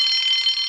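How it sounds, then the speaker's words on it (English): A shrill, steady electronic alarm tone rings loudly and continuously for a brief moment. "Soon came the alarm."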